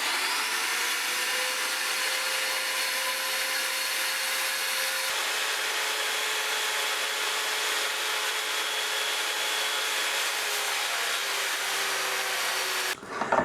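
Power saw cutting two pieces of walnut for a scratch-built guitar, a steady, loud whining cut that runs continuously and cuts off abruptly at the end.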